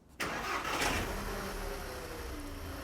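A Volkswagen Jetta 2.0 TSI direct-injection engine cranks and catches, then settles into a steady, close idle hum.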